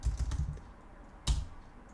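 Computer keyboard typing in a quiet room: a quick burst of several clicky keystrokes, a pause, then one more short tap, close and fairly soft.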